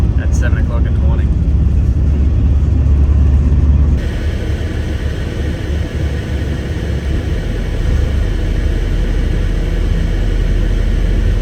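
Traffic on a main arterial road in Sydney rumbles steadily, a continuous broad wash of passing vehicles with a voice talking over it.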